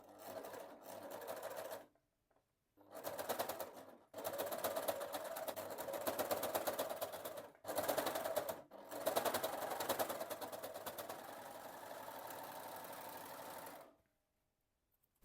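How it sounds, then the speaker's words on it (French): A domestic sewing machine stitches a pinned fabric cuff onto the bottom of a sleeve in steady whirring bursts, with short pauses between runs and no talking. "je vais m'occuper de coudre le poignet que j'ai déjà épinglé"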